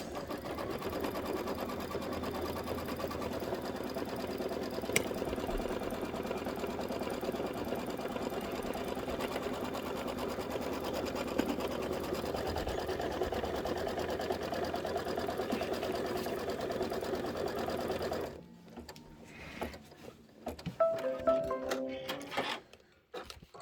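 A Kimberbell embroidery machine runs tack-down and placement stitches for batting and background in a steady, continuous whirring hum for about eighteen seconds, then stops, leaving quieter scattered handling noises.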